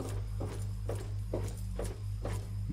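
Robot horses in Fallout 3 walk with a slow, even clip-clop of about five hoofbeats over a low, humming game ambience.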